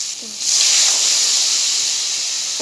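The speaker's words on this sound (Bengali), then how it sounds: "দিয়ে দিচ্ছি জল" Water poured into a pan of fried potatoes and squash for a Bengali vegetarian curry, setting off a loud, steady steam hiss that rises sharply and holds for a couple of seconds.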